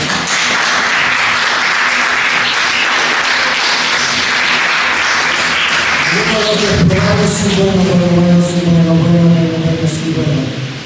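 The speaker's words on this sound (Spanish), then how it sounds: "Denle un aplauso a Jesucristo." A congregation at a Sunday church service applauds steadily, a dense wash of clapping that continues as music with sustained tones rises beneath it near the end.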